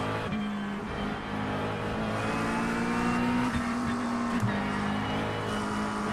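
GT3 race car in iRacing at Spa, engine droning steadily and loud throughout with a sustained pitch that shifts as the throttle is worked out of a corner, a brief dip and gear change near the middle.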